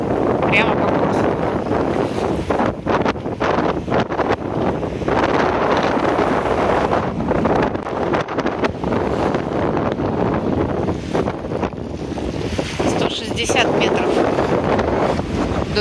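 Strong wind buffets the microphone in a steady roar while sailing against the wind, with rushing water and boat noise underneath and occasional voices.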